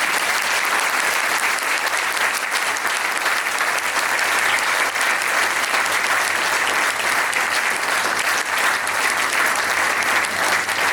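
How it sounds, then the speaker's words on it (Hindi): Audience applause offered in thanks to honoured guests at a public ceremony, a dense, steady clapping that stays loud and even for about eleven seconds with no break and no voices over it. "हम लोगों को मिलकर तालियों की गड़गड़ाहट से धन्यवाद अर्पण करना चाहिए"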